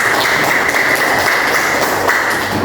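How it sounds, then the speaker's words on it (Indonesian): Students in a classroom clapping as a group, a loud, continuous wash of applause with little change from start to finish. "Iya, bagus. Tepuk tangan lagi."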